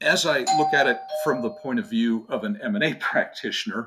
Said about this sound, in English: sorry about the doorbell there.